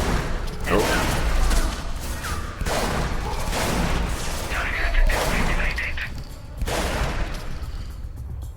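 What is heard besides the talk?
shotgun firing in a video game (Scourge Outbreak)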